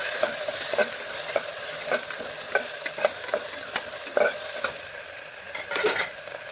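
Ginger garlic paste frying in a pan for mutton keema and spinach curry, a steady close sizzle broken by repeated scraping strokes of a spoon stirring, with no voices.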